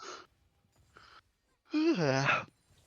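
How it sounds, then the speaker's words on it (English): An esports commentator casting a League of Legends match lets out a long, audible yawn that rises and falls in pitch, after a couple of brief breathy sounds, close to the microphone. "we do a little bit of yawning"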